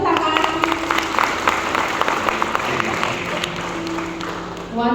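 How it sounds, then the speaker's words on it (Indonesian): A conference crowd claps steadily for about five seconds, a dense, even patter of many hands from start to finish, with a brief tonal sound appearing at the very end. "Clap."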